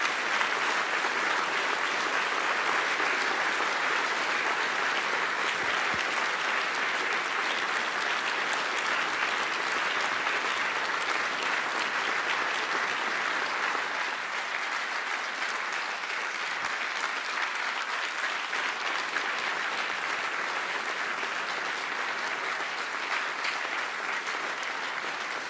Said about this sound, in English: I hope you can hear the huge round of applause that your words have brought about